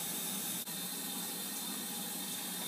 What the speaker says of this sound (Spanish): Me ducho.